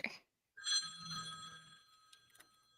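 A telephone rings with a sustained electronic bell tone that fades out after about a second, preceded by a brief click and followed by faint tapping.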